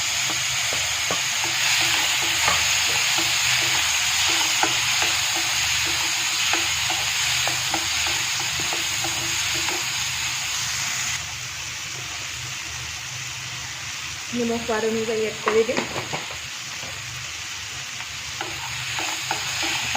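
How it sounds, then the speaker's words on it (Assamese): Steady sizzling of tomatoes frying in a pan with scraping stir strokes, fairly loud throughout, with a voice speaking briefly partway through. "এইখিনি অলপ সময় ভাজি ল'ম"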